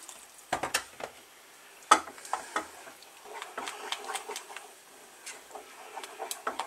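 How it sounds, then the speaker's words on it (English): A spoon stirring a roux in a pan for sausage casserole gravy, heard as light, irregular scraping and tapping strokes close by, with sharper clinks now and then and no voices. "All this stirring when you're making the roux is what gives the sauce its shine"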